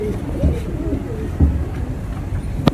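Soft, low coos from a female pigeon repeat a few times against a steady background hum, with faint voices and a brief sharp tap near the end.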